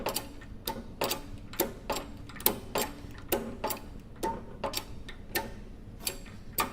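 A hydraulic ram is cranked by hand to press a bearing onto an electric motor shaft, giving a steady run of sharp ratcheting clicks roughly every half second, close and clear with no talking.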